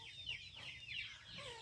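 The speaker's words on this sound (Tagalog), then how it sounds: "Ito po yung mga heritage na chicken ko nga nandito." Heritage chickens in a coop clucking softly and continuously nearby, several birds overlapping in quick chattering calls.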